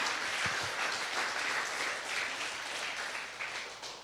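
A church congregation applauds during a sermon, a moderate wash of clapping that gradually fades toward the end.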